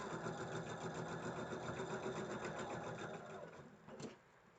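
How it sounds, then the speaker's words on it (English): A sewing machine runs steadily as it stitches quilt blocks together corner to corner, a close, even mechanical hum that slows and stops near the end. "Now these will nest and I can sew them together"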